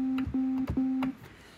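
Default Sytrus synth patch in FL Studio holding C4: three sustained steady synth tones separated by short clicky breaks, clear and alone, fading out at the end.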